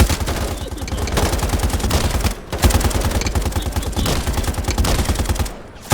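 Small machine gun in the Modern Warfare campaign rattles off long, dense bursts of rapid automatic fire, loud and close, with a brief pause near the middle and another near the end.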